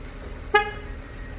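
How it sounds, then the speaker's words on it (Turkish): A Ford Courier's horn gives one short, sharp toot on double-locking, close and clear, against faint background hum. "Çift kitlemede korna olayımızı deneyeceğiz arkadaşlar."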